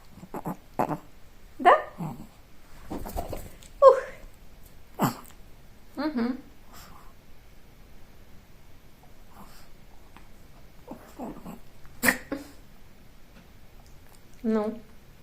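Small dog whimpering and giving short barks and snorts in scattered bursts close by, while someone speaks to it warmly at intervals in a home setting.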